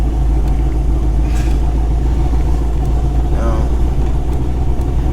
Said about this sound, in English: You gotta speak up. This car loud.